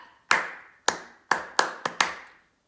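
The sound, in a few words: hand clapping, body percussion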